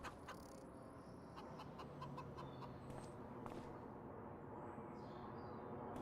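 Chickens on a farm in the Farming Simulator 25 video game, faint scattered clucks and short calls over a steady noisy outdoor ambience, distant and low in level throughout.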